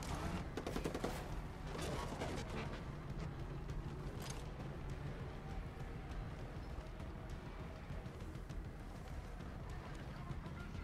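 Sustained gunfire in the video game Ghost Recon Breakpoint, dense overlapping shots and bursts crackling at a steady loud level throughout, with no talking.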